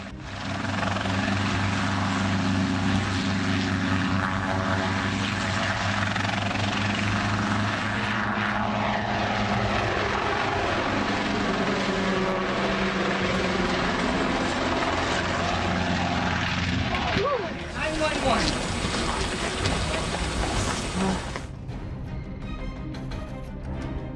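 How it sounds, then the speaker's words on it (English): A helicopter's steady rotor and engine roar runs loud and continuous during an air show in Utah, then a sudden harsh change near the end as the helicopter crashes. "crashes his helicopter during the show"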